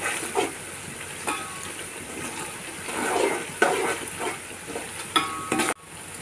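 Onions frying in a pan for mutton biryani give a steady, close sizzle, with a few louder stirring scrapes and clatters before a sudden cut near the end.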